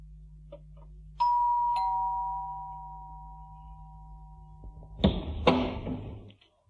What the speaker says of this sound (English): He went to Bill's flat and rang the doorbell.